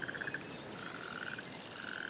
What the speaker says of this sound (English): I can vary the intensity of this loop. So that's the intensity of the frogs